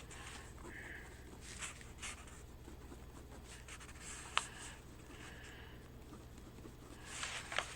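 Pen or marker writing out a math problem during a completing-the-square review, heard as faint, intermittent scratching strokes over a quiet room hum, with no talking.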